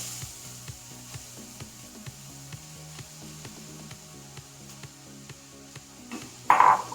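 Grated pumpkin frying in ghee gives a soft, steady sizzle with regular light taps from stirring. A brief louder burst comes at the very end.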